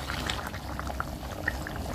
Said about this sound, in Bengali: ঝোলের জলটা ফুটে এসেছে